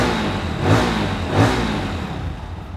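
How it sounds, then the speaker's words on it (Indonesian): A GPX Diamond GR200R single-cylinder motorcycle revs twice through its exhaust, two close blips rising and falling over a steady idle, with no voices. "Waktu digeber dan ditutup gas ternyata ada kayak suara renyahnya gitu ya. Ternyata knalpotnya bukan cuma ngebas aja nih"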